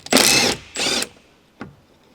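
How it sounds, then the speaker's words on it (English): Impact wrench with a 10mm deep socket backs out the wiper motor mounting bolts on a 2007-2017 Jeep Wrangler: two loud, half-second rattling bursts close up, then a short third blip, with no talking. "Using a 10mm deep socket with an impact wrench, remove the mounting bolts of the wiper motor."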